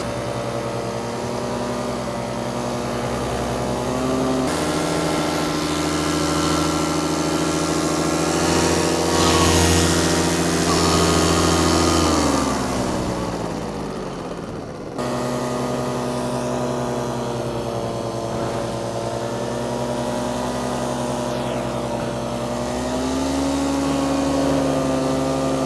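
A paramotor engine with a repaired exhaust drones steadily in flight, loud and close, its pitch shifting as the throttle changes, with a brief dip and jump mid-flight.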